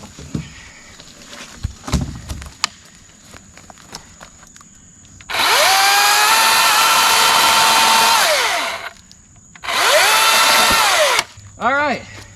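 A top-handle chainsaw, STIHL or Milwaukee, cuts through wood in two loud sustained bursts, its whine rising as the chain spins up and falling as it slows, then a brief third rev; quiet clatter and handling noises come before.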